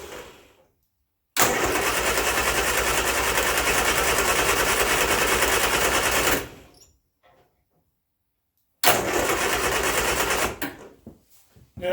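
A Turner Ranger tractor engine cranks on the starter after a choke adjustment, a loud, close, steady whirring crank for about five seconds, a pause, then a second shorter cranking attempt that fails to catch.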